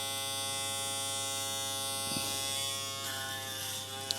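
An Aberlite Touch 2 rechargeable electric head shaver runs steadily close by, a continuous tonal buzz and whine with brief scraping shifts as the foil passes over the scalp.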